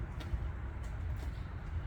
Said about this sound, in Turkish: Güvercin.